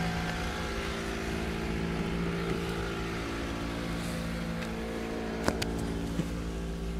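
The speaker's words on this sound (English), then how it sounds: "Maybe that's just the way the muffler sounds." A 2008 Toyota Matrix idles through its muffler after a cold start in winter, a steady low engine drone with a smooth, even hum. Near the end it is broken by a couple of brief sharp clicks, with no talking.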